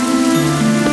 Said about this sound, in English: Finally, when it started to rain, he started to wait in a corner